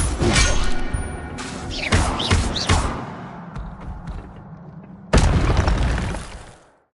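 Incendio fire spell going off in a Harry Potter video game, a series of sharp booming bursts and crackling impacts, then a second loud blast before fading to silence.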